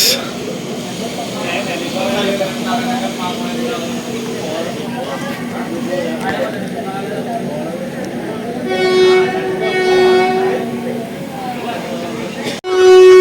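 A train horn toots at an Indian railway station on the Tiruvannamalai to Tirupati route as the train starts, sounding in short blasts over station bustle while someone talks throughout.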